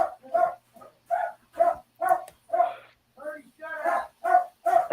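A dog named Birdie barks and yips in a rapid series of sharp, close, loud barks with brief gaps between them.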